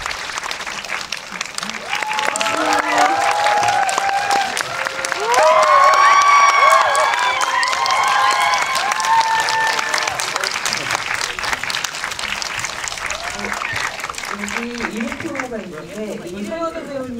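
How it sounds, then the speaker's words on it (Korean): Large audience applause with some cheering welcomes the director and cast at a Korean film talk event, swelling to a loud peak midway then tapering while voices and chatter continue over and after it. "큰 박수로 맞이해 주세요."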